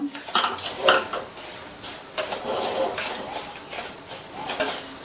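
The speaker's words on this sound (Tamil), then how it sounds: "மிதமான தீயில வச்சு இந்த ரவையை கருகிராம நல்லா வாசனை வர வரையும் வறுத்துக்கலாம்" Semolina (rava) roasting in a pan over medium heat, stirred with a metal spoon: irregular scraping and light clinking strokes against the pan over a soft background hiss, moderately close.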